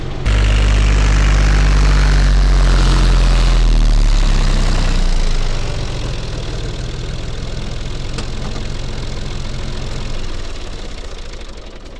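A tractor engine runs close by, a heavy, low idling rumble that is loud at first and then settles to a quieter, steady drone.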